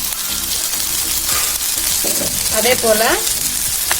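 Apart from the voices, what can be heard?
onion and garlic frying in a pan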